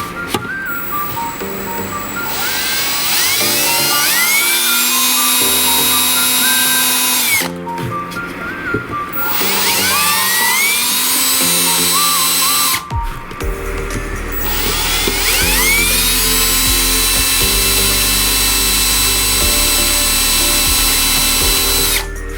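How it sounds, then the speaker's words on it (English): A power drill whines steadily and loudly drilling holes in a tank, its pitch rising and falling as it bites through material, pausing briefly twice before resuming. "I just take my time and drill through this"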